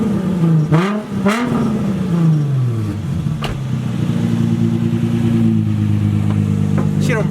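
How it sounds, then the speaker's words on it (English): Nissan 350Z engine revved in short bursts, two quick sharp blips rising and falling, then a longer sustained rev held steady and loud, close to the car, with a brief voice near the start. "Let me give it some revs."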